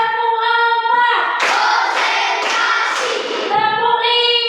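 A group of children clap in counted unison at a teacher's cue: a short run of sharp, closely spaced hand claps mixed with their sung or chanted voices, set between stretches of sustained group vocalising.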